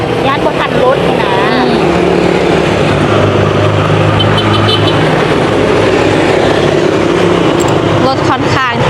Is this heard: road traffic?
yes